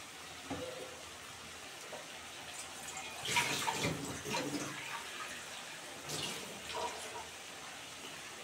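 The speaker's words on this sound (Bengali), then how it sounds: "আমি একটু জল দেব।" Water poured into a cooking pot of drumstick and prawn curry already seasoned with turmeric and salt, a soft splashing stream with a few louder gushes, close and fairly quiet.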